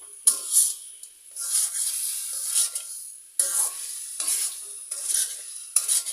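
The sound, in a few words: masala sautéing in a pan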